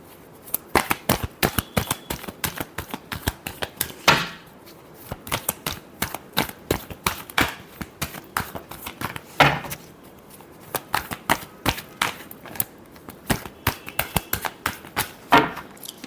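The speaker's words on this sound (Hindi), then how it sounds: "Last shuffle." Tarot cards are shuffled in quick riffling bursts with short pauses between runs, the crisp flicking clear and close, with no talking over it.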